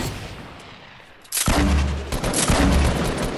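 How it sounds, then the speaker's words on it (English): Enemy gunfire in a shooter game erupts suddenly after a quiet moment, a loud rapid burst of shots continuing in close, repeated volleys. "This dude keep on shooting at me."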